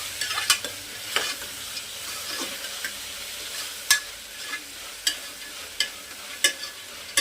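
Tomato and capsicum fry in a pan while a spoon stirs them, producing repeated sharp scraping knocks at an irregular pace over a low, steady sizzle.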